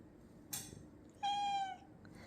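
A cat meows twice nearby: a short sharp chirp followed by a longer, clear, drawn-out meow, against quiet room background.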